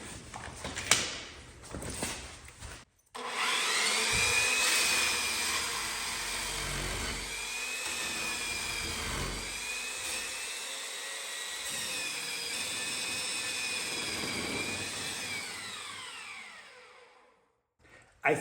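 A mini belt sander works on wood in one long, steady pass with a whining motor tone that holds and shifts slightly in pitch, preceded by a few short bursts and ending abruptly.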